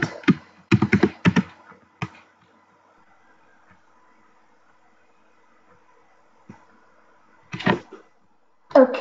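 Password typed on a computer keyboard at a desk: a quick burst of close key taps at the start, a lone tap near two seconds, then a quiet gap before a few more taps and clicks near the end.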